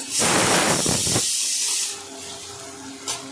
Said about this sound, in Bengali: পেঁয়াজটা একটু লাল করে ভেজে নিই